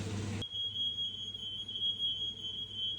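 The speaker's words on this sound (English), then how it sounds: "This thing would always make the alarm go off." After a brief burst of noise, a kitchen smoke alarm, set off during cooking, sounds a continuous piercing high-pitched tone, loud and steady throughout.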